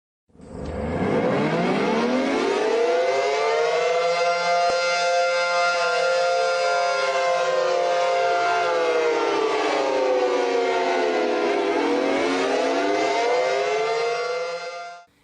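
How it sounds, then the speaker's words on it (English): Computer-synthesized Cold War Los Angeles air raid sirens, recreating SD10, 500T and Model 5 units, wind up into a loud, steady wail that slowly falls and rises again in pitch, alone with no talk. "a computer recreated Cold War LA siren ambience using synthesized sounds of an SD10, a 500T, and a Model 5, the Birdhouse Sirens"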